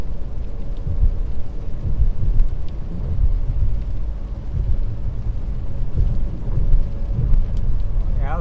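Low thunder rumbles through a storm southwest of Oshkosh, Wisconsin, a steady deep roll over rain and wind noise that lasts the whole stretch, with no talking.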